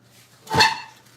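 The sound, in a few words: dog barking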